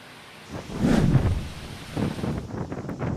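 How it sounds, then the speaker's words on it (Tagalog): Gusty typhoon wind roars across the microphone in surging bursts in Isabela, Philippines, swelling and easing over a few seconds with a low rushing rumble. "Maririnig pang tila pag-ugong ng hangin."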